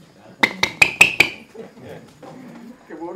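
Four or five sharp metallic taps from a hammer land in quick, even succession, loud and close. Murmured talk and faint room noise come after them.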